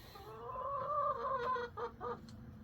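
A hen giving a drawn-out, reedy, clarinet-like call that rises and wavers, then breaks into a few shorter clucking notes, close and fairly quiet.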